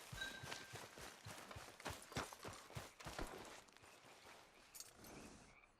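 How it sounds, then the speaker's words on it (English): Horse hooves clip-clop in Red Dead Redemption 2, a quick run of sharp, close hoofbeats that thin out and then stop, with a few scattered knocks after the stride ends. "Hey, get back on your horse."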